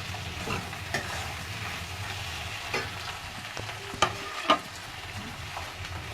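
Chopped tomato and spinach frying in a pan, a steady sizzle throughout with a spoon stirring and occasional sharp clinks against the pan, close and unaccompanied by talk.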